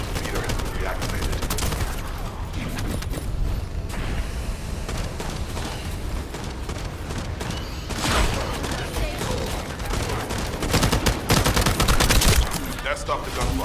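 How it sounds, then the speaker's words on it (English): Gunfire rattles in The First Descendant video game during a fight near a communications relay base, dense overlapping bursts of rapid shots with heavier booms, loud and continuous for the whole stretch. "That stopped the gunfire."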